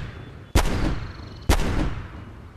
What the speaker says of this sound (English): And one of my favorite gun sounds.